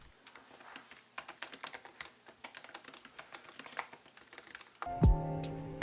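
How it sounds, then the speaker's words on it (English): Rapid, uneven keystrokes clatter on a 2017 MacBook Pro 13 butterfly keyboard, a dense run of crisp clicks for about five seconds before a brief louder clunk at the end. "Here's a small sample of me typing on this keyboard so you can hear how this sounds like."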